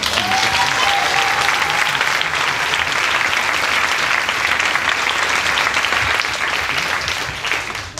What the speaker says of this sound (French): on peut réapplaudir Nathalie.